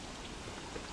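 Rain falls in the survival video game Don't Starve Together as a quiet, steady hiss of raindrops with a few faint droplet ticks.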